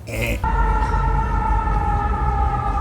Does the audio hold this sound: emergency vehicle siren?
yes